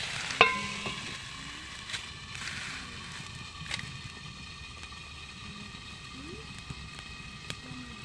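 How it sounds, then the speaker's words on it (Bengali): Food fries in a covered pan while being stirred, giving faint scraping clicks and occasional utensil knocks over a quiet, low sizzle. "একটু ভালো করে নেড়ে চেড়ে আবার একটু ঢাকনা চাপিয়ে দেবো।"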